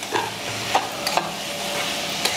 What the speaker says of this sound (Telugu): మూత పెట్టకుండా కూర్చుని ఇలా వేపుకోవాలి ఒక 5 నిమిషాలు